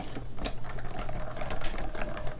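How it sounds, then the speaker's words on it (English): A die cutting machine rolls a paper die through for a Valentine card, producing a close, rapid mechanical whirring with small clicks that rises and falls in quick pulses, and no one speaks. "we're going to get our die cutting machine again, and I'm going to use the same die cutting folder"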